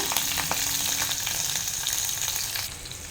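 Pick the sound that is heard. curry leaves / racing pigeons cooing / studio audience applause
curry leaves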